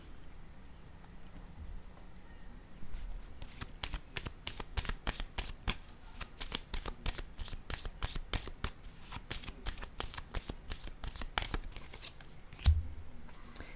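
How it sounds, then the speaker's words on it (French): Tarot cards are shuffled quickly in a fast, even run of soft riffling snaps, with a final card set down at the end. The sound is close but faint. "Je vais déposer une autre carte ici."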